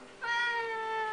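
A Siamese cat lets out a single drawn-out meow, clear and close, with a steady tonal cry held for about a second and no talking over it.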